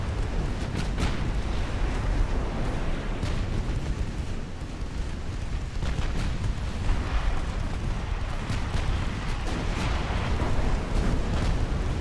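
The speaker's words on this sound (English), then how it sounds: "the broadsides just rip them apart" Heavy battleship broadside gunfire in Ultimate Admiral: Dreadnoughts, a naval game set in 1890 with a Russian fleet: a continuous, loud wall of deep booming blasts and rumbling explosions that rolls on without pause.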